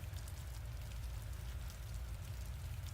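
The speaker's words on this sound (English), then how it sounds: "she had to suffer through a winter rain" Winter rain from the video game Witch on the Holy Night falls as a steady, even patter on surfaces. The hiss stays constant and unbroken for the full stretch, with no voices.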